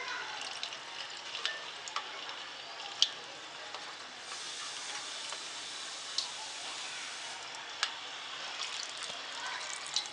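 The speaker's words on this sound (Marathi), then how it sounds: "आता मी ते 300 ग्रॅम तेल घेतलेलं आहे. त्याच्यामध्ये मी हे लसूण टाकते." Garlic frying in about 300 grams of hot oil for a Maharashtrian raw mango pickle, a faint steady hiss with scattered small pops and ticks, no voices over it.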